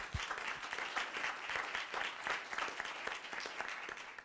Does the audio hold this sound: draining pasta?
no